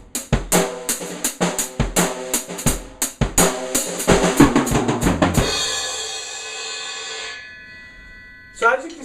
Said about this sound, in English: you might stomp on the hi-hat a couple times for some added effect.